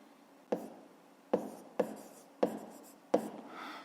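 Pen strokes scratch across paper during a Ukrainian fifth-grade maths exercise, five short distinct bursts spaced about half a second to a second apart, close and fairly quiet, with no talking.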